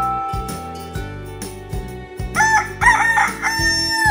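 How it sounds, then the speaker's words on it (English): A rooster crows loudly and close by, a long strained cock-a-doodle-doo, over a backdrop of rhythmic plucked music. "Crowed the rooster."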